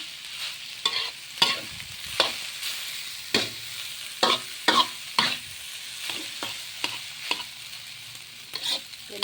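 Rice with eggs stir-fried in a pan, a spatula scraping and tossing in irregular bursts over a steady close sizzle, with no one talking.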